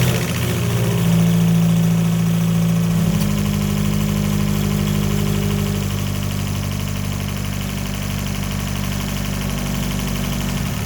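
A 2013 Fiat 500 Turbo engine starts up and settles into a steady idle with a strong low hum, and the air conditioning compressor engages and adds a droning layer, loud and close with no talk.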